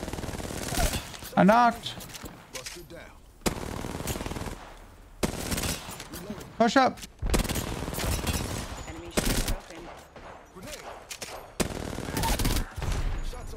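Bursts of automatic gunfire from Apex Legends, loud close volleys repeating every second or two across the whole stretch, with a player talking over them.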